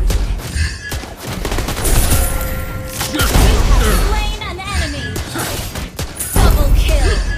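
Clint, a gunslinger hero in the mobile battle game Mobile Legends, fires rapid bursts of gunshots amid booming impacts and game effects, loud and dense throughout with short pauses between volleys.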